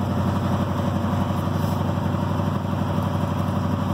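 A 1980 Chevy 454 V8 runs just after a freezing cold start. It gives a loud, steady, rough idle with a deep rumbling drone and a fast uneven lope, close up, with no talking over it.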